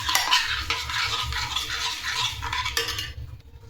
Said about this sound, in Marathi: यामध्ये आपण आता साखर टाकून घेऊ आणि बटर हे व्यवस्थित मिक्स करून घेऊ आपण